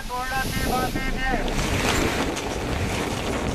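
Stormy sea during Cyclone Tauktae off Mumbai, with a steady, loud roar of surf and wind buffeting the microphone throughout.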